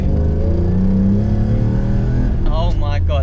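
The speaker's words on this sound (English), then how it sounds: "I just power slid for the first time in my life" A BMW E34 M5 engine revs hard and steady at close range as the car is power slid, a dense continuous roar with rising tonal sweeps near the end, and someone talks over it.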